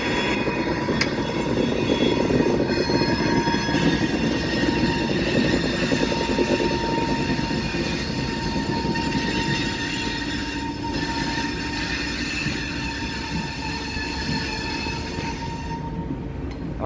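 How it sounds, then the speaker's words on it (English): A long freight train of special cars built to carry airplane fuselages rolls past in Lincoln, Nebraska, a steady roar with constant wheel squeal and rumbling rails, loud throughout. "Special train made specifically to carry the fuselages"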